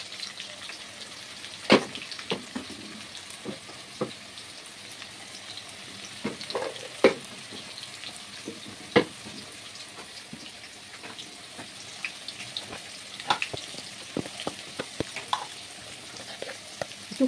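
Potatoes sizzle in a pan with turmeric, with tomato, salt and cumin powder also in the pan, for a pangas fish kalia. A close, steady frying hiss is broken by sharp spatula stirs and scrapes at irregular intervals, with no voices.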